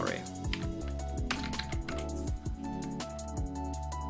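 Keys clatter on a computer keyboard as a search term is typed into a job listings site, a quick run of close clicks going for several seconds over steady background noise.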